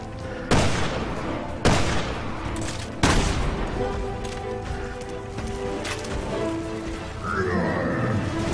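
Gunfire during a boss fight in the video game Resident Evil Revelations 2: three loud, sharp shots spaced a second or so apart, each trailing off into rumbling game ambience, with a brief tonal effect near the end.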